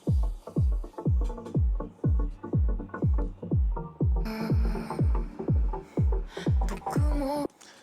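Four-on-the-floor electronic track with a steady thumping kick on every beat, the synth swelling around it and sidechained vocals ducking in rhythm, close and loud throughout, no talk.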